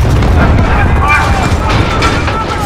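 A grenade explosion in a PS5 war video game, a loud, dense boom with rumbling low end that fills the whole moment, with voices underneath.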